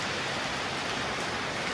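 Heavy rain pours down in a dense, steady hiss, loud and unbroken throughout, with no other sounds standing out.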